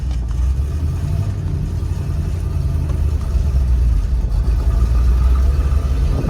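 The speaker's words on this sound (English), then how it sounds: "First drive, 71 Montego. Let's go right down the ramp. First gear, she's all right." A 1971 Mercury Montego with a 351 Cleveland V8 and a four-speed pulls away in first gear, producing a steady, loud low engine rumble heard from inside the car, with no talking.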